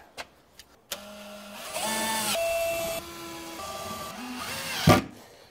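A power driver sets screws into a wooden storage box in several short whirring bursts with a steady motor pitch, close and fairly loud, ending with a sharp knock.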